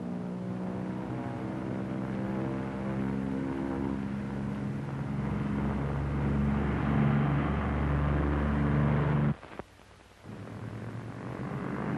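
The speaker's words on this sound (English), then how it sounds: "Tony, simulate single-engine failure on takeoff. Okay, Milo. I'll cut the right engine." Twin engines of a P-38 aircraft drone with steady harmonic tones on takeoff, the note shifting as the right engine is cut, then the sound drops sharply near the end before partly returning.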